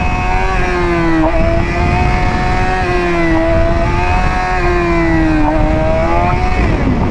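A Suzuki GSX-R 750 motorcycle engine braking with baffles installed, loud close engine drone whose pitch rises and falls in repeated sweeps as revs change, steady and dominant throughout.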